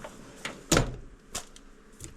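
A drawer in a workshop hydraulic hose crimping station slides shut with one firm thud, followed by a few lighter knocks and rattles nearby.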